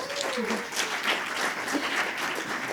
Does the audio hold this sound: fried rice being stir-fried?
no